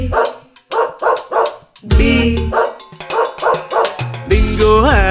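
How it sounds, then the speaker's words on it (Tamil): Cartoon dog barks in short rhythmic bursts between lines of a sung Tamil nursery rhyme for children, with music and singing voices throughout. "விவசாயி வளர்த்தார் ஒரு நாயை, பிங்கோ அதன் பேரு பி."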